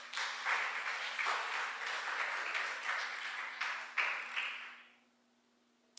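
Applause from a church congregation, steady clapping that swells and fades out near the end.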